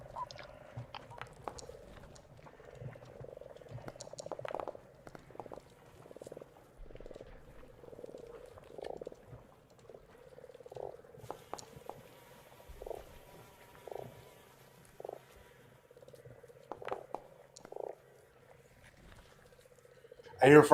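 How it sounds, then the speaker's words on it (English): Frogs croak in a steady, repeated pulse as ambient background in an online Pathfinder game session, with faint voices and small clicks around the looping calls. "I hear frogs croaking. Is that ambiance or is that someone in my party? That is ambiance"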